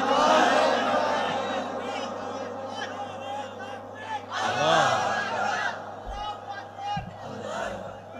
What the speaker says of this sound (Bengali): একটা লোক তাকবীর দেন তো দেখি কেমন হয়।